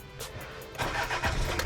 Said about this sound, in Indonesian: Mas, ini kan mobil diesel ya. Kita nyalain dulu biar sudah dengar suaranya.